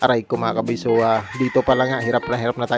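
A rooster crows loudly and close by during a typhoon, overlapping with someone speaking; several drawn-out crow calls rise over the talk.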